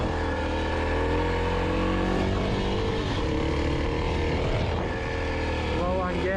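A 2021 Kawasaki KLX 300 dual sport motorcycle climbs a backcountry trail near Boise, Idaho in second gear, its engine droning loud and steady under wind noise and a rider's talk.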